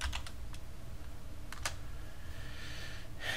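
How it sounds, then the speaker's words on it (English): A few quick keystrokes on a computer keyboard as a command is typed, faint, close clicks in small clusters over a low background hum. "So come over here and type in command."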